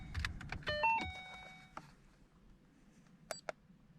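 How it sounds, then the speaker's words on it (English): Ford Mustang GT interior as the ignition is switched on: a few short electronic chimes and beeps over faint cabin background, with scattered clicks and a couple of brief tones near the end. "You want to put the ignition on the start position."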